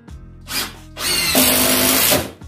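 A Milwaukee FID2 impact driver on its third mode drives a long 90 mm screw into timber. The motor whirs loudly, and the impact mechanism kicks in partway with a sustained rattling hammer until the screw seats.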